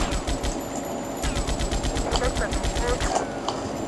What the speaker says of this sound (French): On nous donne une grosse mitrailleuse lourde, pourquoi pas s'en servir?